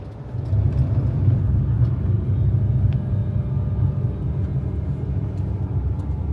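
A tour vehicle driving across high desert from the Chilean side toward the Bolivian border gives a steady, loud low engine and road rumble from inside the cabin, with no voices.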